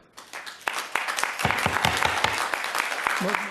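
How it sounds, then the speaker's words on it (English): Audience clapping breaks out at a city council meeting in Newport Beach, a burst of many hands that rises quickly and holds steady, with a voice speaking over the applause. "No clapping, please."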